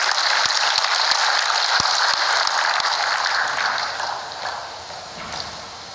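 An audience at the 2021 launch of village enterprise legal entities applauds an official, a dense, loud wash of clapping that holds steady and then gradually fades; no speech over it.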